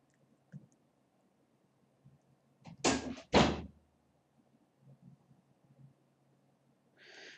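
Two solid thuds of a door pushed shut in a quiet room at home, back to back and fairly close, with a few faint knocks before and a soft rustle afterward.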